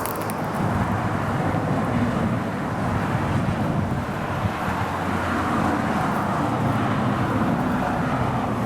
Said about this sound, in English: people are just driving by at high speed